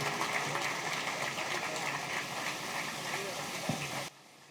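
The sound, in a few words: applause for Adil bhai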